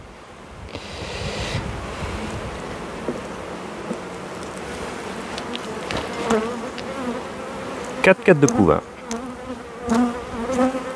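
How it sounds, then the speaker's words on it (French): Honeybees hum in a dense, steady buzz at an open hive during a spring inspection, close and continuous, with someone speaking French over it and a few handling knocks near the end. "Ça c'est les abeilles."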